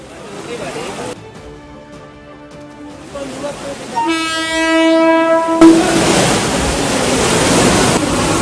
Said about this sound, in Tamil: தண்டவாளத்தில் தேங்கியுள்ள மழைநீரில் ஊர்ந்து செல்லும் புறநகர் ரயில்கள்.